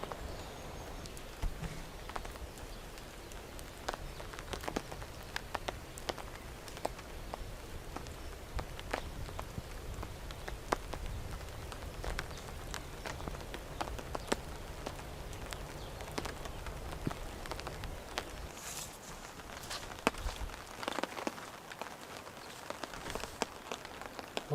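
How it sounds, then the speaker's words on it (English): Light, steady drizzle falling on a forest campsite with a shelter tent, soft scattered drops pattering on surfaces over a continuous low hiss, with occasional sharper taps, and no one speaking. "As you might be able to hear, it's just spitting, sort of drizzling rain, but pretty consistent."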